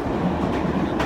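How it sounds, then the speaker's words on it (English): Steady low rumble and rolling clatter fill a packed passenger train in England, a continuous loud drone of carriage motion with faint wheel rhythm and no clear voices. "We just got on the train."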